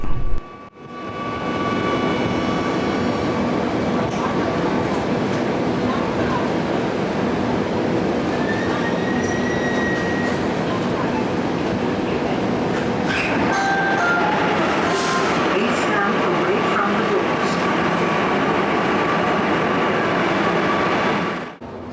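Steady interior rumble of a Kochi Metro train riding on an elevated line, a continuous loud drone with faint whine and rattle, brief clunks near the start and end.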